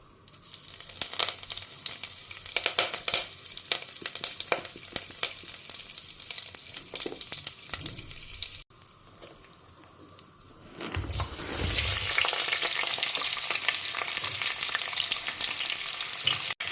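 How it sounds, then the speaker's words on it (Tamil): Mustard seeds and asafoetida fry in hot oil, giving a close, crackling sizzle with popping bursts that grows louder and denser toward the end, with no talking. "எண்ணெய் சுட்ட உடனே கடுகும் பெருங்காயமும் பொரிய விட்டுடலாம்"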